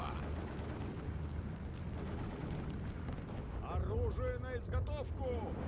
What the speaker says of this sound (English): These are being direct fired by artillery,